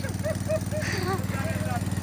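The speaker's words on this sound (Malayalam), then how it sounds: "ഇവിടെ മോട്ടർ ഓൺ ആക്കിയിട്ടുണ്ട് കേട്ടോ ഇപ്പോൾ ഇവിടുത്തെ വെള്ളമൊക്കെ വറ്റിക്കാൻ പോവാണ്" Motor-driven water pump draining a newly dug pond on a farm in Africa, a steady low pulsing engine drone running continuously up close while a person talks over it.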